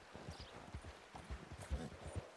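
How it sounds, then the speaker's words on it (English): Mule hoofbeats while riding in Red Dead Redemption 2, steady clip-clop footfalls on a town street in Blackwater, close and moderately loud, running continuously through the clip with no talking. "I am riding the mule"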